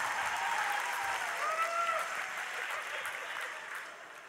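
Stand-up comedy audience clapping together in a hall, a steady wash of applause that fades out toward the end, with no voices over it.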